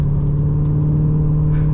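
A Holden VZ SS ute with a 6-litre V8 and six-speed manual hums with a deep, steady, close-up rumble as it cruises along, with no talking over the engine.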